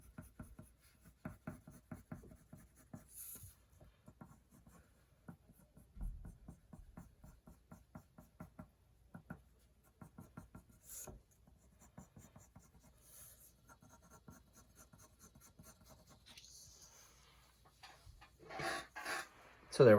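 Pencil crosshatching on paper, with quick rhythmic scratchy strokes in close succession, faint and close, pausing briefly, followed by a few louder rustles near the end.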